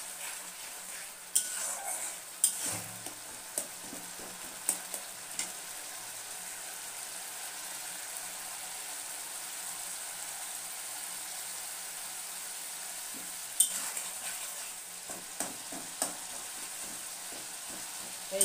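Spice paste for an egg curry sautéing in a pan, a faint, soft sizzle under scattered clinks and scrapes of a spoon stirring against the pot, with two brief clusters of clatter. No one speaks.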